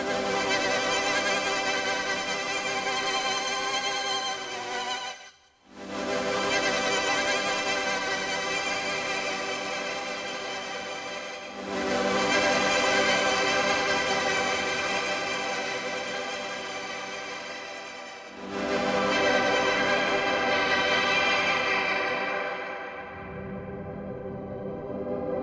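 A sustained Elektron Tonverk synth patch with vibrato applied to its delay, rich harmonic tones holding steady in long sections separated by brief gaps, loud and close with no voice over it.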